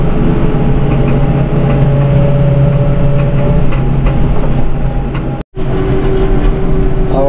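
A tractor pulling a stubble cultivator across a dry field gives a steady loud engine drone with rattling metallic clatter, continuous apart from a brief dropout near the end.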